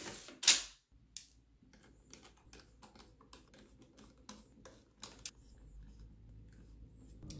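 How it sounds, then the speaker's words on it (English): A Game Boy Color being taken apart for a power switch repair: close, quiet plastic clicks, creaks and small mechanical taps, with a sharp snap near the start and scattered handling noises after. "We'll take this apart and see what we can find."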